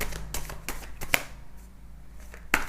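Tarot cards are shuffled by hand in a quiet room, a series of soft crisp riffling snaps in an uneven rhythm, close and faint.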